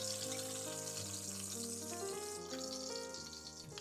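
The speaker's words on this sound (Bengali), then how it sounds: "এবারে মাছটাকে পাল্টে উল্টো পিঠটাকেও ভেজে নিতে হবে।" Pieces of turmeric-and-salt-rubbed bata fish fry in oil, a dense sizzle mixed with musical tones, loud throughout the short stretch and easing slightly toward the end.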